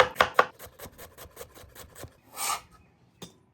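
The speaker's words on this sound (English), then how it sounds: "2 stalks of celery finely chopped." A knife chops celery stalks finely on a cutting board in a rapid run of crisp, close taps that slow and thin out, with a brief scraping sweep near the end and one last tap.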